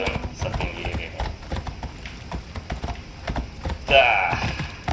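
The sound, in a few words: horse hooves galloping, Assassin's Creed Odyssey video game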